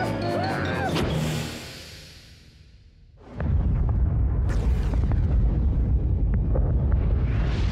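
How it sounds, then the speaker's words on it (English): A cartoon spaceship self-destructs with a loud, sudden explosion. A sustained rumbling roar follows and stays loud to the end, after a brief stretch of quieter voices and effects. "Self-destruct mechanism activated."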